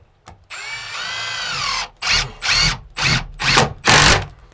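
Power drill driving screws into a Harvey Allen Game Getter hunting blind: a sustained whining run that drops in pitch, then four short sharp bursts of drilling close by.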